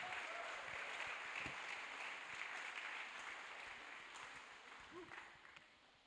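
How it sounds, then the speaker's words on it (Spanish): Congregation applause during a Spanish-language church service, a broad steady wash of clapping at moderate distance that gradually thins and fades toward the end. "Si va a aplaudir, apláudale a Cristo Jesús."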